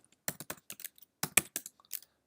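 Computer keyboard typing out a command-line command, a quick run of about a dozen crisp key taps in two short bursts, close and clear.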